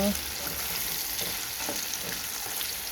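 Pork and mustard greens cook in a pan with an even, close frying hiss and faint stirring, no voices.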